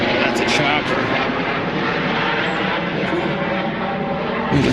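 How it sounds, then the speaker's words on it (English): A Coast Guard helicopter passes overhead, its loud, broad rotor and engine roar filling the whole stretch steadily and up close, with no break. "That's a chopper."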